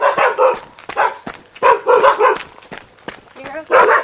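A territorial dog barks and yelps in short, loud bursts close by on a Pembrokeshire walk, with a brief whine near the end and people talking between barks.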